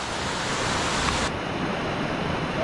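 A monsoon stream in a Konkan village, with sea and well nearby, rushing steadily and loudly with no break for the whole stretch and no voices.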